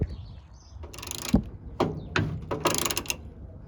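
A ratchet wrench loosens a 24mm fastener on the tension rod of a 1988-97 Nissan D21, threadlocked and stubborn, in several close, loud bursts of rapid clicking separated by short pauses.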